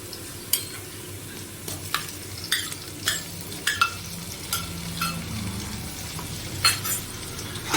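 Ginger-garlic paste sautéed in oil over lightly browned onions for chicken pulao: a low continuous sizzle punctuated by sharp, close spatula clinks and scrapes against the pan, with no voices.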